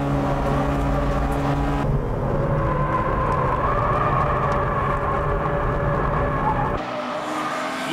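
A full-tune Spoon Honda Integra Type R DC2 racing on track in hot, humid conditions, its engine suffering trouble: a loud, continuous rough roar that shifts character partway through, then cuts to a thinner, lower drone near the end.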